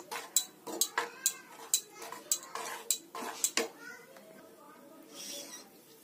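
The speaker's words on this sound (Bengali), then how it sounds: "এরপরে এটা আমি খুব সুন্দর করে আবারও একবার ফেটিয়ে নেব" Coriander-leaf fritter batter whisked in a bowl for crispy Bengali chop, a run of sharp rhythmic clinks and scrapes against the bowl, close and fairly quiet, then a softer rustle at the end.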